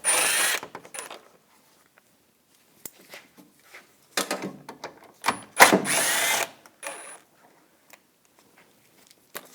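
Ratcheting and metallic tool sounds come from a 10mm socket backing bolts out of the base of the grille on a 2014-2018 GMC Sierra pickup, in short bursts separated by quiet gaps.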